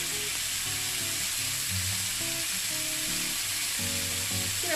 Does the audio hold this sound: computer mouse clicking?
no